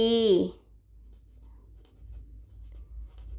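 A Line ID written by hand, heard as faint, soft scratching strokes that follow a brief spoken voice at the start.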